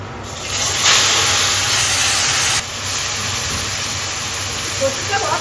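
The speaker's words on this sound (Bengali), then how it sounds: "আমি ফোড়নে দেবো কালো জিরে আর শুকনো লঙ্কা" Black cumin and dried chillies hit hot tempering oil for a Bengali kochu shak dish with hilsa fish head, a loud steady broadband hiss and sizzle that stays close and continuous throughout.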